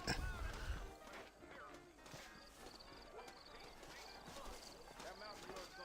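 Horse hooves clip-clop in a western video game while someone talks over them, with a faint whinny and background game ambience, the steps quiet and steady under the voice.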